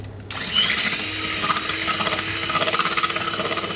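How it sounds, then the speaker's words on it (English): An electric whisk beats egg whites to stiff peaks for a chocolate roulade, a close, steady mechanical buzz with a rapid rattling pulse that runs without pause after a brief start, with no voices. "we are going to whisk them until they form stiff peaks, but not dry"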